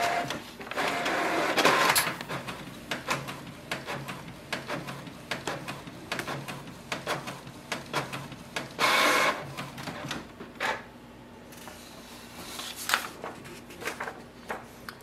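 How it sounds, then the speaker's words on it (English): A Canon Pixma G6020 inkjet printer prints a nozzle check sheet, with clicking, whirring feed mechanisms and rhythmic carriage passes, a couple of louder bursts and a faint steady hum underneath. "We'll print the nozzle check sheet again."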